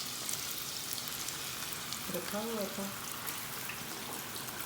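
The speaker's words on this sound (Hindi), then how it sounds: "तो चलें जी, ऑयल हमारा गर्म हो गया। अब इसमें डालते हैं ये प्याज।" Chopped onions dropped into hot oil in a home kitchen, a steady broad sizzle and crackle throughout, with someone speaking briefly over it partway through.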